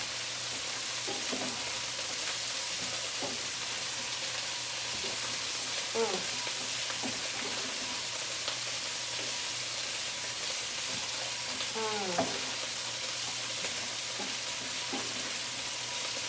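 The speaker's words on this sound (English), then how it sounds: "And it's sizzling away already." Peppers, onion and celery mirepoix sizzle steadily in a pan for Thanksgiving stuffing, a constant close hiss with faint scattered crackles and some soft background sounds throughout.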